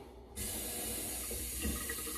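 Near-hot water gushes steadily from a tap into a sink to soak a washcloth before a shave, a close, continuous broadband rush that starts abruptly and keeps running without voices.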